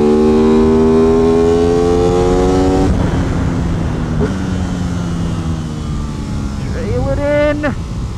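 An Aprilia RS660 motorcycle engine screams at high revs on a race track, dropping through gear changes then climbing again, loud and close under wind noise.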